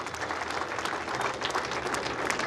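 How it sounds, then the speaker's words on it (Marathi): Steady applause from an audience at a Marathi victory celebration ceremony, dense and continuous clapping that fills the whole moment without any talk over it. "एकदा जोरदार टाळ्या झाल्या पाहिजेत"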